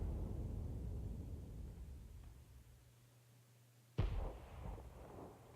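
A tank cannon fires once in an armored-combat video game, a sharp blast after a stretch of low rumbling engine noise, followed by a decaying boom.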